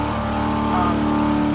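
A car engine in the Roblox game Greenville hums and revs steadily throughout, loud and close, with a voice speaking over it.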